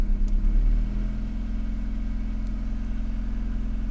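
A 1991 Honda Civic EF with about 150k miles sends out a deep engine and exhaust rumble, one swelling rev at the start that settles into a steady low idle-like drone.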